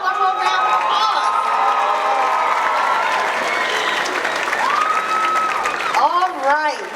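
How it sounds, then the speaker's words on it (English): High school graduation audience applauds at a 2022 ceremony, a loud, sustained roar of clapping with cheers and whistles rising through it and a few shouted voices near the end. "How about one more round of applause?"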